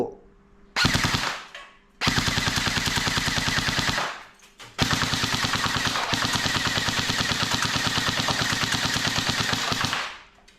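Electric BB gun firing in rapid full-auto bursts, a short burst followed by two long sustained strings of dense, loud, even shots, alone without talk.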